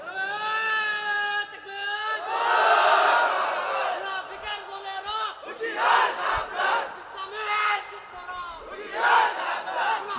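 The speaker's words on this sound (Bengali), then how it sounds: "মাহফিলটা জমান না, নারায়ে তাকবীর দেন।" A crowd at an Islamic religious gathering (waz mahfil) roars the Nara-e-Takbir battle cry in loud, swelling waves of massed voices, several surges repeating over several seconds.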